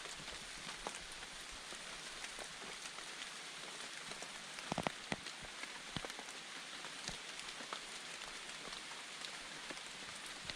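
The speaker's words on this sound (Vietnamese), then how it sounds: "Trời đang mưa." Rain falls in a forest, a continuous, even patter of drops on leaves and ground with sharper close hits scattered throughout, moderately quiet and with no voices.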